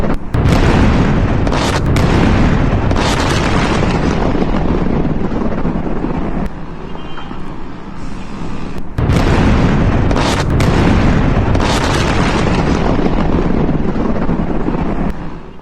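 Heavy blast rumble and roaring booms from US bombing at Chabahar port, loud and continuous with broadband roar, a brief dip mid-way then renewed intensity, wind-buffeted like distant news footage.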